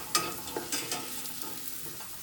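Potatoes fry in a pan with a pinch of asafoetida added, producing a close, bright sizzle with a few quick stirring scrapes that soften toward the end.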